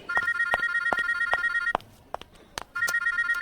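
A landline telephone rings with a bright electronic trill in repeated bursts. It pauses briefly, then starts ringing again, loud and close against a quiet background.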